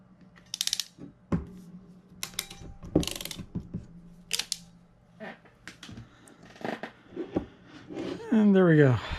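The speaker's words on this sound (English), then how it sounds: "It's ratcheting, so you have to go all the way through the compression before it'll let go." A ratcheting compression connector on a motorhome security camera cable, pushed through its compression stroke, giving scattered short mechanical clicks and ratchet snaps close up, with a louder rasping burst near the end.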